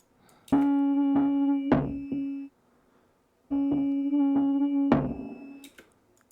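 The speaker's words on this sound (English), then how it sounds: "so I added this like tonal percussion part" Tonal percussion part added to a music sample: pitched, knock-like hits with a steady ringing tone, played in two short rhythmic phrases separated by a brief gap, clear and fairly loud.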